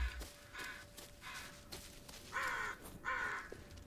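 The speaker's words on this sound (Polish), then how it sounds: "Jakieś kruki słyszę." Ravens caw in a forest in the video game Blair Witch, several hoarse calls spaced unevenly, moderately near over a faint ambient bed.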